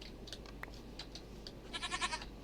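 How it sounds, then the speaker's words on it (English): A Minecraft goat bleats in a short burst of wavering cries near the end, after a few faint clicks and soft munching sounds from a goat chewing dirt blocks. "And the goat's eating all of my dirt."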